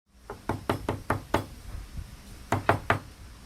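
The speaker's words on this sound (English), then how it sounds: "She heard a knock on the door," A series of sharp knocks on a wooden door, a quick run of six or seven raps, a pause, then three more, fairly close.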